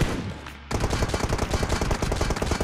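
Rapid automatic M4 rifle fire from the mobile game PUBG Mobile erupts after a brief quiet lead-in, a dense, loud, continuous burst of shots.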